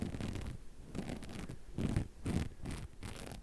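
Rough, dry scratching strokes on a coarse loofah sponge, repeated in short bursts of about half a second, close up with no voices.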